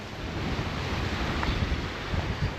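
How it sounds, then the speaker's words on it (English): Strong wind buffets the microphone while choppy water slaps and washes on the shore of a tiny island on Loch Lomond, Scotland, a loud, constant roar with no voices. "The wind's really picked up, the water's actually pretty choppy now."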